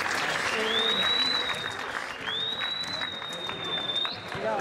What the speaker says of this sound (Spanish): para aplaudirlo